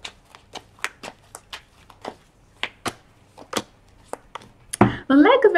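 Tarot cards being shuffled by hand, a sequence of separate close flicks and taps spaced irregularly, then a louder burst of rustling at the end.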